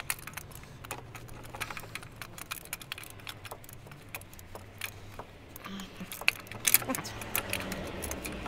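A wrench tightening a car's oil filter during an oil and filter change gives soft metallic clicks, ratchets and rattles against a quiet garage background, while a person speaks now and then.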